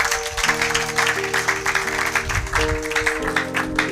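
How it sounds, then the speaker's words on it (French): Church congregation applauding together in sustained, dense clapping, with a musical drone or organ-like tones held underneath and some voices mixed in. "Acclamons pour la gloire de notre Dieu."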